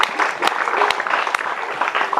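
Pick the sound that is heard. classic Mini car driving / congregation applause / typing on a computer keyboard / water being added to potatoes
congregation applause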